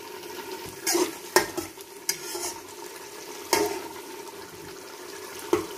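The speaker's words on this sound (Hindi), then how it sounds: "मसाला भुनना शुरू हो चुका है" Masala for chana pulao fries in a pan while a spoon stirs it, giving a steady sizzle broken by several sharp scrapes and knocks against the pan, close and without voices.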